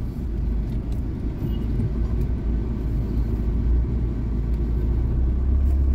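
A car being driven to a college parking spot fills the space with a steady low engine and road rumble that stays loud and even throughout, with no voices.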